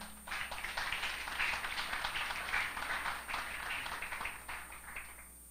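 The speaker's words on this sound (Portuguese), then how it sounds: "Uma salva de palmas para o Senhor, então." Church worshippers give a round of applause for the Lord: many hands clapping together in a thick, continuous patter that swells and stays strong, then thins slightly toward the end.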